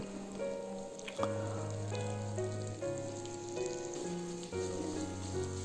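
Chicken frying in its own melting fat in a pan for a fat chicken curry, a soft continuous crackling sizzle heard close up beneath steady tonal background sounds, with no talk.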